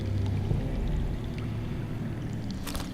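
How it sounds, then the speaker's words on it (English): Underground running water in the Game of Thrones video game: a steady low rushing, gurgling flow, continuous and moderately loud throughout, with a few faint high clicks near the end. "I hear water. From underground."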